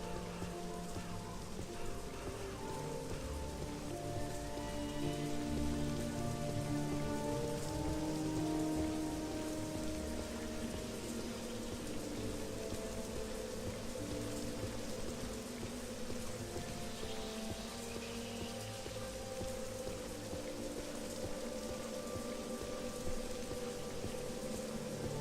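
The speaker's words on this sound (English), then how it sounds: "it's starting to rain like always." Steady rain falls across the Morrowind game world, a constant dense patter on surfaces that holds even and unbroken throughout with no voices over it.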